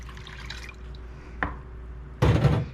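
Two cups of water pour into a cooking pot in a short splashing burst near the end, after a quiet stretch with a single faint drip-like tap.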